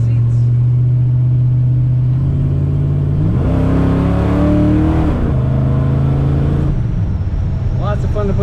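A 1962 Ford Fairlane two-door post with automatic transmission revs loudly and close from a steady idle, the engine note climbing for a couple of seconds before settling back to idle.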